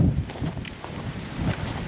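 Gusty stormy wind on an exposed mountain summit in the Kojsó hills buffets and rumbles in uneven low bursts, rising and falling in strength, with no voices.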